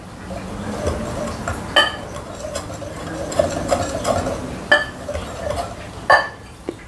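Baking powder and cinnamon being mixed in a bowl for a homemade cake: a utensil scrapes and stirs continuously, with several sharp clinks against the bowl's side, close and fairly clear.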